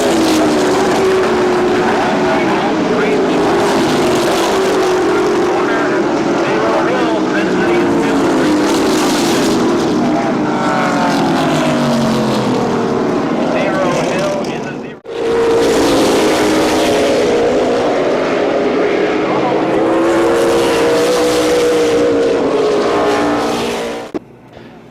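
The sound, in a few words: race cars on speedway track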